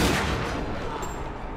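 A Desert Eagle pistol shot in The Darkness 2 video game, a single loud, close blast with a decaying rumble that fills the short moment.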